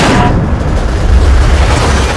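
Explosion aboard a space station in the sci-fi film The Cloverfield Paradox: a sustained, loud, broadband roar with heavy low rumble, continuous across the whole moment without a sharp single crack.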